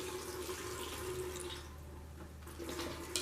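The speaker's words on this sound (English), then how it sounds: "Let's go ahead and pour some of that in there." Liquid poured into a gas tank for an International Harvester Cub Cadet tractor, a steady trickling splash with a low hum underneath and no talk.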